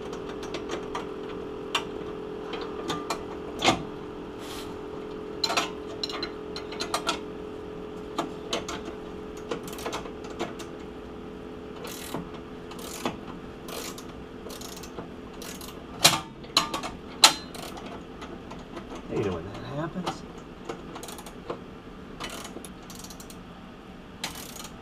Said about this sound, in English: we're going to have to cut this bolt